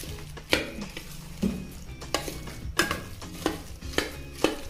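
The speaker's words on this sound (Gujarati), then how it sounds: "આ બધી જ વસ્તુને મિક્સ કરો." Spoon stirring melted jaggery with dry ingredients for katlana ladva in a pan, a series of scraping, clattering strokes at an uneven rhythm, close and clear with no talk.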